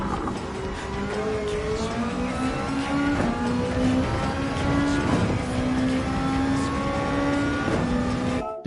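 A turbocharged race car of roughly 700 horsepower screams around Fuji International Speedway in Gran Turismo 7. The engine revs hard and shifts up through the gears, loud and close, with no talking.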